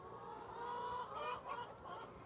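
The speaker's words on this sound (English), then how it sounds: "Vital Farms farmers give their hens a lot of attention." Hens on a Vital Farms egg farm clucking softly in a low, continuous murmur, with a few louder clucks rising midway, somewhat distant and alone.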